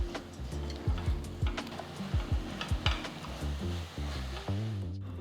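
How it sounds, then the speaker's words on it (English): A spoon stirs salt and sambar powder into vegetables in a pressure cooker for one-pot sambar rice, giving repeated close metallic scrapes and clinks in an uneven rhythm over a low, steady sizzle, with no talking. "Stir well to ensure the spices coat the vegetables evenly."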